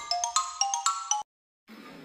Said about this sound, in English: X for xylophone. A phone with sticks. The notes are short and quick.